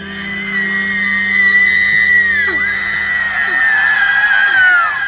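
A woman shrieks in a drama sound effect, a long, loud, sustained high scream that wavers and bends in pitch over several seconds, heard alone with no talk.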